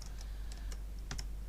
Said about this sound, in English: You'll notice as I'm typing